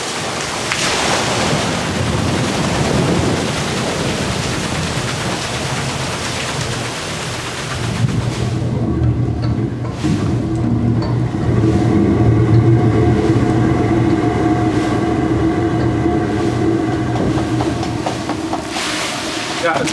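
A wooden water mill wheel begins to turn as water pours down a chute into its buckets, a steady rushing splash with creaking rumble building midway and continuing loudly throughout, with people talking faintly beneath.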